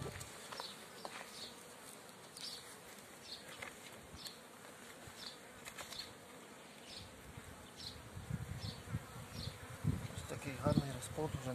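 Steady, close buzzing of many Buckfast honey bees swarming around a hive frame, with occasional rustling and handling noises and brief murmured speech in the background.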